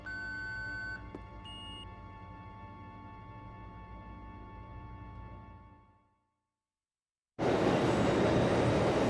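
A metro train in the video game Hybrid Heaven hums and rumbles steadily with tonal whines, fades out into a second of silence, then a loud broadband rushing noise bursts in.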